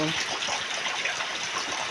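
Rainwater pours and splashes in a constant rushing stream, like runoff spilling from a roof, close and continuous for a couple of seconds.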